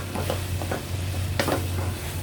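Kimchi being stir-fried in a pan for pork kimchi stew, giving a soft steady sizzle with a few scraping stirs of the spatula over a constant low hum.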